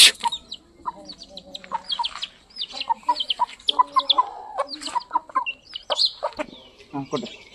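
Aseel parrot-beak hens on a poultry farm cluck nearby in repeated short, sharp bursts and squawks, overlapping irregularly against a quiet background.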